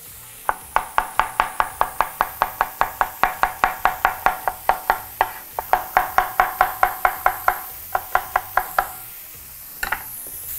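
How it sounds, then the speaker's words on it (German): Knife cutting bell pepper into strips on a board for a vegan rice noodle dish with oyster mushrooms: a fast, even run of about thirty crisp, close chops, pausing briefly near the end before a few final cuts. "Die Paprika schneide ich Streifen"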